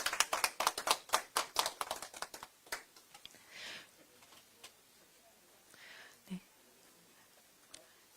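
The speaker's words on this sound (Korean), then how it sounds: "환영의 큰 박수로 맞이해 주시기 바랍니다." An audience in a hall at a Democratic Party ceremony welcoming new members claps in a burst of applause that fades after a few seconds, followed by scattered claps and faint murmurs.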